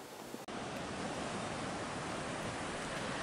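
Ocean surf at Serau Beach in Pacitan roars as a dense, steady wash of breaking waves. The sound starts abruptly and then holds loud with no voices.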